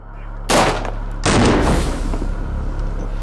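Two loud rifle shots fired through a HUXWRX muzzle brake, roughly a second apart, each a sharp close blast trailing into a long outdoor rumble.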